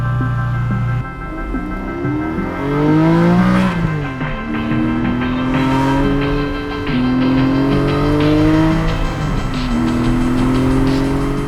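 A Porsche GT4 sports car drives around a city block, its engine loud and close as it revs up through repeated rising sweeps, dropping pitch at each gear change, with the tone climbing again after each shift.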